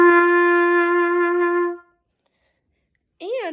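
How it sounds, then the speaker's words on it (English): A single sustained trumpet note rings out clearly for nearly two seconds, then stops; after a pause, a voice begins speaking. "this is a trumpet"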